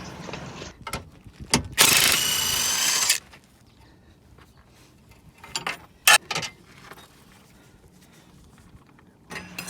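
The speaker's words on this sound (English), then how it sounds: "Loosen the second bolt out using an 18mm socket and a breaker bar, or impact wrench and an 18mm wrench on top" Control arm bolt on a Nissan Juke being loosened with an 18mm socket and breaker bar: bursts of clicking ratchet and metallic tool noise, including one loud sustained grinding stretch and a few sharp clanks, close by with no talk.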